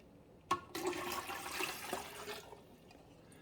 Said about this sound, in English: I'm going to fill this up to the 16 ounce or 2 cups of water.